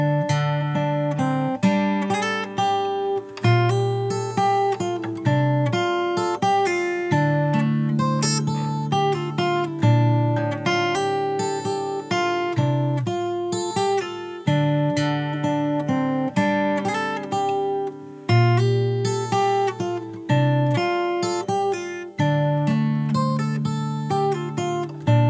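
Fingerstyle acoustic guitar plays the pre-chorus of a song, a steady run of plucked bass notes and chords in a repeating rhythm, close and clear with no voices over it.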